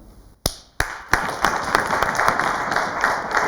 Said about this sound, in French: Vous savez pourquoi ça applaudit très fort derrière vous?